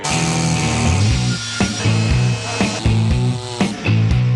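Chainsaw cutting wood during deforestation in the Amazon rainforest: a loud, continuous engine drone with repeated revving surges and bursts of cutting roughly once a second, close by and alone.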